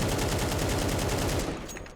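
Counter-Strike 2 gunfire: an automatic weapon fires a fast, even stream of shots, loud and close, then fades after about a second and a half.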